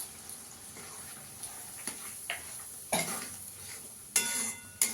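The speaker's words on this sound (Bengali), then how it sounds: "ভালো করে কষিয়ে নেবো পোস্তটা কাজু বাদামটা দিয়েও" Masala with poppy seed and cashew paste stirred in a pan while it fries for a paneer and cauliflower curry, with a soft, quiet sizzle and a few sharp scrapes and clinks of a spoon against the pan.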